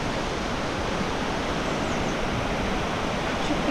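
A stream flows through a green valley near Fethiye, giving a steady, broadband rush of running water that holds even and unbroken throughout, with no voices.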